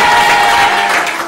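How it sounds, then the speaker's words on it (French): Loud, dense applause from a radio show's studio audience at Forges-les-Eaux, a continuous roar of clapping that holds steady and tapers slightly toward the end. "on va demander un tonnerre d'applaudissements au public ce soir"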